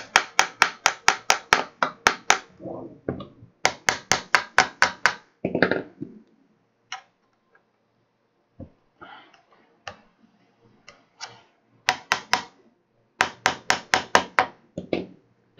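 Sharp metallic hammer taps driving a bearing into a Prusa i3 MK3 3D printer part, in quick bursts of six to eight strikes, pausing between groups, close and loud with faint handling noise in the gaps.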